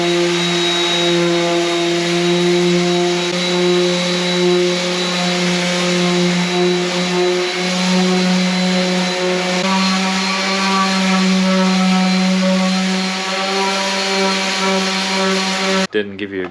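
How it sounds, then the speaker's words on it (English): Power sander grinding plastic wood filler off a wooden router table cabinet top, a steady loud droning whine with strong harmonics running continuously for about sixteen seconds before cutting off. "I'm going to sand this plastic wood off that we put last time."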